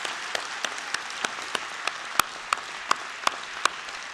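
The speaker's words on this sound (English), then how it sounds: "they deserve a huge round of applause" Applause at a university presidential inauguration ceremony honoring the organizing committee, heard as a fairly even wash of clapping punctuated by a series of sharp, regularly spaced louder claps.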